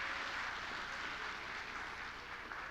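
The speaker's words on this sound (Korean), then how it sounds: "우리 유아부 아이들에게 큰 박수로 다시 한번 격려하며 축복하도록 하겠습니다" A church congregation gives continuous, fairly faint applause for the preschool children during a special dawn prayer service, a dense, steady patter of many hands with no talking.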